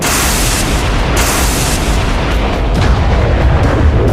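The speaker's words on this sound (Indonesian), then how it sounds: "Suara ledakan terakhir menggema di seluruh lembah" A huge explosion in an audio drama duel atop a poison mountain, a loud sustained roaring boom that rolls and echoes across a valley with rumbling bursts, heard alone without voices.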